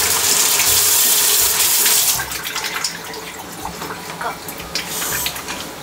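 Water rushes loudly from a kitchen tap fitted with a Xiaomi water-saving sensor attachment, a steady close gush that eases to a softer, uneven splashing stream after a couple of seconds.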